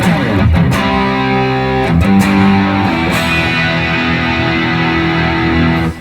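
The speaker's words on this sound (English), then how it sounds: "that's where I turn on my prime distortion" Electric guitar played through a prime distortion pedal, thick sustained overdriven chords and notes ringing loudly and continuously, with a few sharp re-struck attacks early on.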